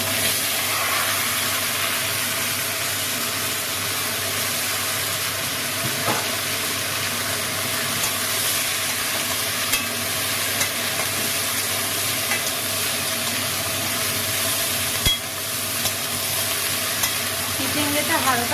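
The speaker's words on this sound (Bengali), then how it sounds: "চিচিঙ্গেটা হালকা ভেজে নিয়ে জল দিয়ে দেবো।" Sliced snake gourd frying in hot oil in a pan for a prawn curry, a continuous loud sizzle and hiss with occasional scraping stirs, steady throughout with no talking.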